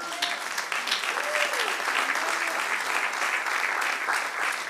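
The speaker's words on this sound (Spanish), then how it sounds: "dale un aplauso al Señor" A church congregation applauds steadily, a warm continuous patter of many hands clapping, with a preacher's voice briefly rising over it.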